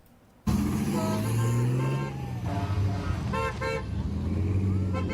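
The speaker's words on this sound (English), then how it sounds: "A car parade greeted 2-year-old Westlyn" A parade of cars and trucks drives past close by, several horns honking in short repeated toots over steady engine and road noise that starts suddenly and keeps going.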